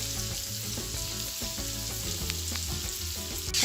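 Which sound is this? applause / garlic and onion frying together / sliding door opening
garlic and onion frying together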